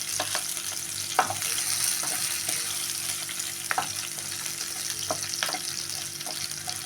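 Lentils frying in oil as a tempering for cabbage palya, a steady close sizzle with scattered light taps and scrapes of a spoon against the pan.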